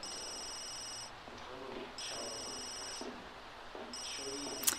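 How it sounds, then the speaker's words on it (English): A phone rings in The Sims 3 game, three bursts of a bright electronic trill about a second apart, separated by short gaps with light game ambience underneath. "here's her phone ringing"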